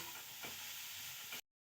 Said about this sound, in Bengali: গাজরগুলো এখানে দেওয়ার পরে আমি অনবরত নাড়তে থাকবো নেড়ে নেড়ে গাজরের জলটাকে পুরো একদম শুকিয়ে নিচ্ছি